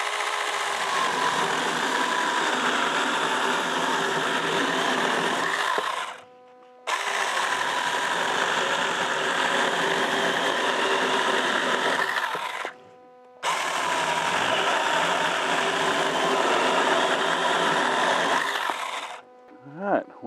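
A Saker 20V cordless mini chainsaw cuts through a 2-inch piece of oak with a loud, steady buzzing whine that runs in three long bursts, each broken by a short pause.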